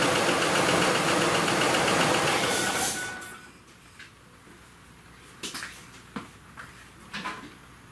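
A 2005 Ford F150 truck engine runs loud and steady for about three seconds, then shuts off, leaving a few faint clicks and knocks.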